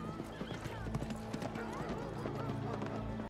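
Horse hooves clip-clop steadily in a royal hunt scene from House of the Dragon, a white horse among the mounts, under a dense bed of music and ambience with faint neighing mixed in.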